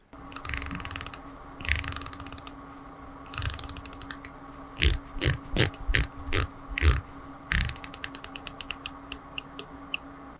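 Aluminum bezel on a Seiko Prospex 1965 Heritage dive watch turned unidirectionally, giving a run of quiet, crisp ratcheting clicks, several in a quick rhythmic cluster, close and alone.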